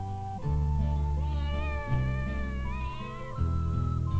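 Tiger cat meowing in a long drawn-out, wavering call, loud and close, rising and falling in pitch over several seconds with no other sounds.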